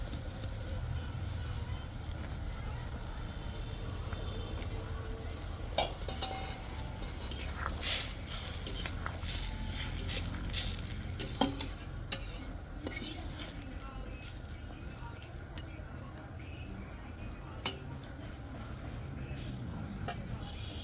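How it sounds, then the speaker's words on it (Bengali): Beans added to a boiling fish curry with cauliflower and potato, a soft continuous bubbling simmer with scattered clinks and stirring scrapes of utensils against the pot, fairly faint throughout. "যা ঝোলটা বলক উঠে পড়েছে, তো এখন আমি দিয়ে দিব সিমগুলো"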